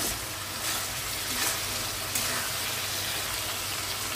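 Potatoes sautéing in a pan of pomfret fish curry masala give a steady, close, even sizzling hiss that runs the whole time with no talking.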